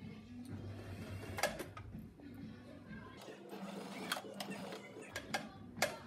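Sewing machine stitching a fabric scrunchie, quiet mechanical whirring and ticking in short runs as it sews forward and back, faint and close.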